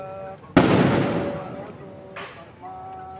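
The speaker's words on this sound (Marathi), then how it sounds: "तोफा वाजवू नका।" Firecrackers go off at an outdoor Bhim Jayanti celebration gathering: one loud, sharp blast with a long rumbling tail, then a second, softer bang, over background voices.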